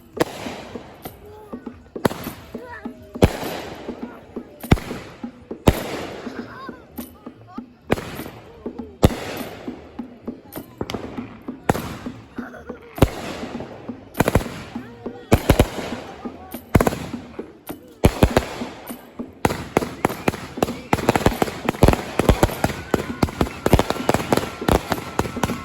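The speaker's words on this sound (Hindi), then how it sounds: "आज अमेरिकन का इंडिपेंडेंस डे है, तो आप आतिशबाजी हो रही है" Fireworks for American Independence Day burst in a long series of sharp bangs and crackles, some close and loud, others more distant, growing denser and more rapid toward the end.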